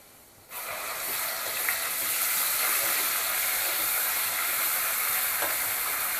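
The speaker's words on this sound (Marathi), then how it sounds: "आता आपण याच्यामध्ये मसाला घालायचा आहे." Masala spices dropped into a pan of browned fried onions for Satara-style mutton rassa, bursting into a loud, steady hiss and sizzle that holds unbroken after the sudden start.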